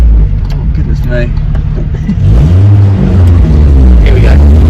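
A Volkswagen Mk2 Polo engine drones while driving, then swells with a rising rev partway through, loud and close inside the cabin with a low steady rumble and a person talking over it.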